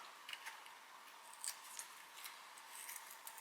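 A blade nicks and lifts away the top layer of recycled cardboard packaging for intaglio printing, giving faint, close, scratchy cuts and small ticks in an irregular series over a quiet background.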